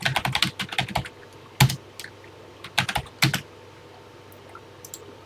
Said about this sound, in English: typing them in is part of the fun of these old programs